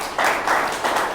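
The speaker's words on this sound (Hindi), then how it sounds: "एक बार जोरदार ताली बजाओ भाई इनके लिए" An audience breaks into a short burst of loud clapping at a network marketing training session, dense, close and swelling in two waves.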